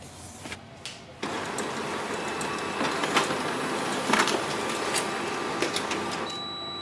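A Canon imageClass MF453dw laser printer prints a page, with a steady mechanical whir and rolling feed noise that starts abruptly after a brief quiet and runs on with small clicks and rattles, close and fairly loud.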